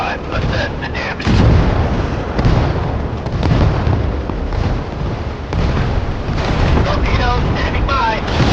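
Warship guns fire during a naval battle in the Force of Warships video game. Repeated heavy booming bursts roll over a constant wind-like rumble, and voices are heard under the din.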